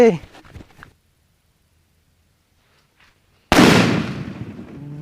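A Sivakasi gold paper firecracker goes off in one sharp, loud blast after a few seconds of near silence, its crackling decay trailing away, with someone talking briefly at the start.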